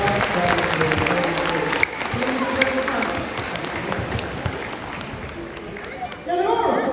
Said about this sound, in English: Hit them both a big round of applause.